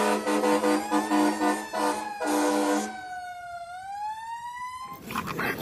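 A toy fire truck sounds a loud, close electronic siren, first a pulsing wail and then a single rising sweep, ending abruptly in a rustling clatter.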